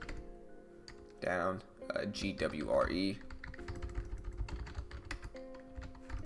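Keys clack on a computer keyboard as a rapid run of crisp taps, steady and close, with someone talking over part of it.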